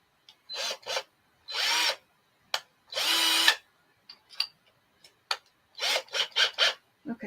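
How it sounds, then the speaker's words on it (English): A handheld power drill bores a hole at a desk in several separate bursts, some short and some held longer, each starting and stopping abruptly against a quiet background, with a few light handling knocks between runs. "I'm just going to pull this off of my desk so I can drill"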